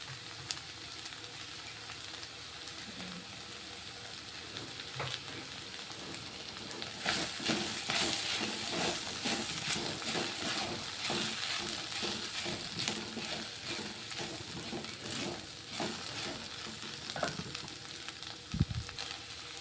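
Okra fries in a pan with chili powder, salt and spices, giving a continuous close sizzle. Scraping stir strokes break through it and grow busier partway through.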